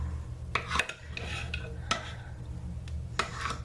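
A utensil scrapes and knocks against the edge of a crockpot while loosening slices of lemon cake, a few sharp clicks and soft rubbing scrapes, close and alone over a low hum.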